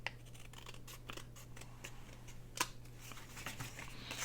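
Scissors trimming the edge of a small paper matchbook notepad, with a string of short, close snips and light paper rustles over a low steady hum.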